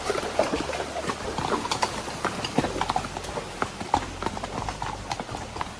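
Horses walk in a line on a North Carolina trail ride, their hooves clip-clopping close by in an uneven, overlapping rhythm over a soft background.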